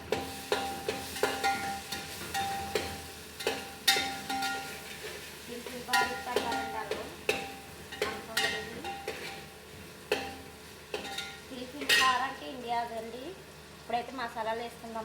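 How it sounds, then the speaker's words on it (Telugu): Capsicum pieces hit a hot pan and sizzle while being stirred, with repeated scraping clinks of the spoon over a constant frying hiss and someone talking in between. "వాళ్ళకి క్యాప్సికం ముక్కలు వేస్తున్నాను."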